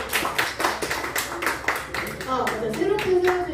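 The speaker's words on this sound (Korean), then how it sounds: "박수." Applause at a church meeting after new student officers are announced, brisk clapping from a small group close by, with some talk mixed in.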